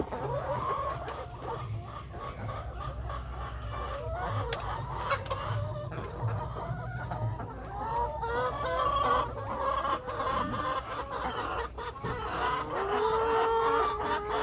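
A flock of about 150 laying hens clucks continuously in a coop, with overlapping close and distant calls and a steady low hum underneath.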